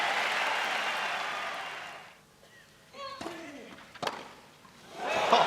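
A tennis crowd at a Rome tournament erupts in broad applause and cheering, loud at first, then fading to near quiet with a few sharp claps and noises before another swell of cheering at the end.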